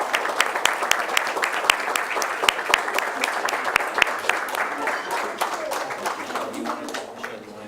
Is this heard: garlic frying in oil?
no